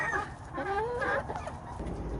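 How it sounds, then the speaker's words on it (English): A rooster and other fowl cluck and murmur close by in a backyard coop, a steady run of soft clucks and short calls with no talking. "And here's my Mr. Rooster"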